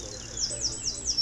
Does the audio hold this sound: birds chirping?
yes